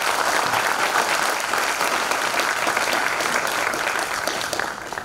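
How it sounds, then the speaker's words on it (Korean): At a send-off ceremony for a provincial team heading to the national sports festival, an audience claps in a thick, even wash of applause that carries on without a break for the full stretch. "박수도 한번 힘차게 쳐주시기 바랍니다."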